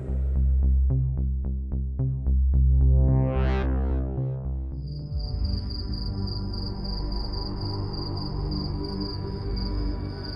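Crickets chirp on a silent night in a horror story sound effect. After an opening swell of eerie tones, a steady high trill continues from a distance.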